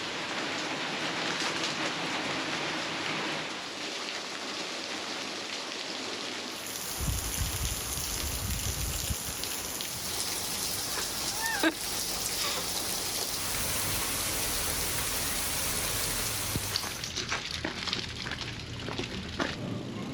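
Steady rain falls during a bikepacking trip in Italy, a dense, constant hiss of drops that continues throughout without a break, fairly close and unchanging.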